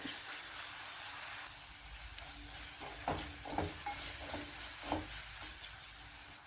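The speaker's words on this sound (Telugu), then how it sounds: "1 స్పూన్ అల్లం వెల్లుల్లి పేస్ట్ వేస్తున్నాను. ఇది పచ్చివాసన పోయేంత వరకు వేయించుకోవాలి." A spoonful of ginger garlic paste fries in a pan for a chicken curry, giving a steady soft sizzle broken by a few stirring scrapes and taps at close range.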